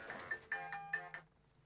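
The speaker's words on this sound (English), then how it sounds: "my alarm went off on my phone" Phone alarm going off during a radio show, a short run of four or five bright electronic tones in a quick melodic pattern, fairly faint, fading out at the end.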